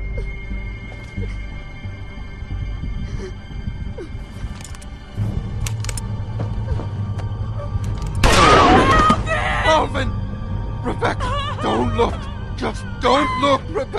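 Gunfire in the video game Telltale's The Walking Dead, a sharp burst of shots standing out amid game ambience, followed by shouted voices and music-like tones.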